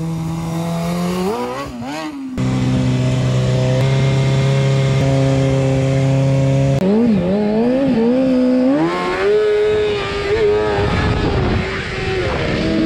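Kawasaki 636 motorcycle ridden up close, the engine revving hard through rising and falling pitch sweeps, with sustained high revs and gear changes, loud and alone.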